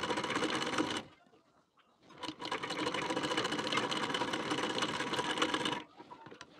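A sewing machine stitches a placket on a collar-neck blouse in fast, even runs of mechanical whirring, with a short pause after the first second and a stop near the end.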